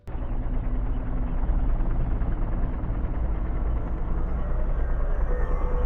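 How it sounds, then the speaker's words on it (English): Helicopter rotors thrum in a steady, close, continuous beat with a low rumbling engine drone, heard from aboard the aircraft and with no voices. "judging by the distinct sound of the rotors"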